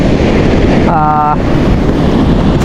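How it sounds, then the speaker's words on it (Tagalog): Loud, constant wind roars and buffets the microphone, with big, rough floodwater waves surging underneath and a brief tonal whistle partway through. "sobrang lakas ng hangin, and then napakalaki ng alon."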